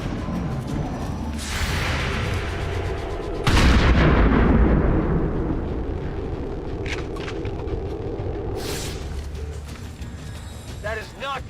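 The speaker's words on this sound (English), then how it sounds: "Throwing grenade!" Grenade blast and gunfire in a video game: a loud heavy explosion bursts at about three and a half seconds amid continuous battle rumble and scattered shots, with a second sharp burst later.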